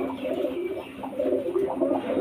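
Soft, repeated cooing from imported Andhra pigeons kept at a home loft, a steady murmuring rhythm of several birds close by with no talking.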